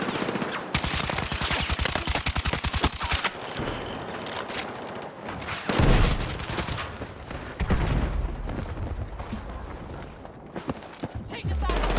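Rapid automatic gunfire from a Battlefield 6 match, dense bursts and fusillades with heavy booms mixed in, loud and close throughout, with a player's voice talking over the shooting.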